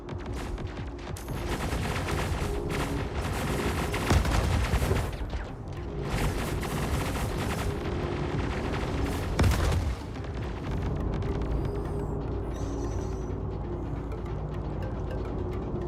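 Missile launches and explosions in the space game Star Citizen, fired at armored targets, come as sustained loud roaring blasts and rumbling booms with dense crackle, heavy for most of the stretch and easing toward the end.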